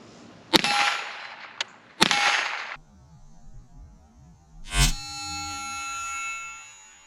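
A .22 rifle fired from about 25 yards at a .338 Lapua cartridge: two sharp, loud cracks close together, then a few quiet seconds, then a bright metallic clang whose ringing tone fades slowly.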